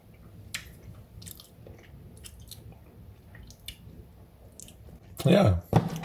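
Chewing on a bite of homemade hummus sandwich, soft biting and mastication sounds close to the mic, with a louder burst of crunchy chewing near the end over quiet room noise.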